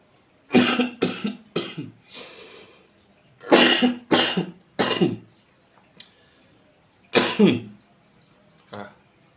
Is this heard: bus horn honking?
no